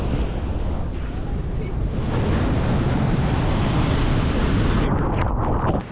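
Big ocean waves crash on the beach at Cabo San Lucas, a loud, continuous roar of surf and spray with heavy wind rumble filling the whole stretch.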